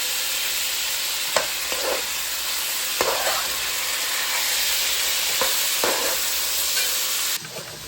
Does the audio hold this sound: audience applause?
no